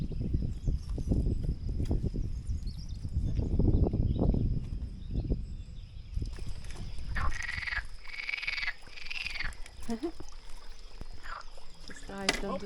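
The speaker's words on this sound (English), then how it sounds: "Very cool seeing all those frogs in that water trough." Frogs croaking in a rural water trough, a run of short repeated croaks in the second half, with walking, rustling and low murmured talk in the first half.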